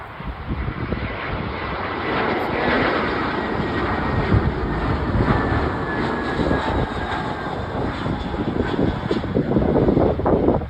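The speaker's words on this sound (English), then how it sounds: "Here comes the British Airways A319." A British Airways Airbus A319 lands in strong wind, its engine roar steady and loud throughout, mixed with gusty wind noise.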